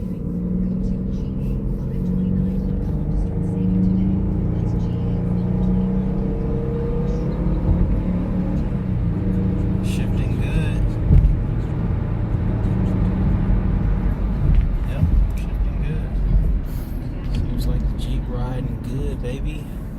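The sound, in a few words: Jeep engine and road noise while driving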